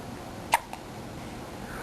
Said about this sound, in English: You know it's a hiccup.